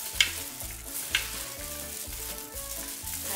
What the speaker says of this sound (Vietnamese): Mình trộn đều lên trước.